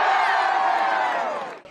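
A loud crowd cheers and yells steadily for an endurance runner at an evening public event, a dense roar of many voices that fades slightly at the very end.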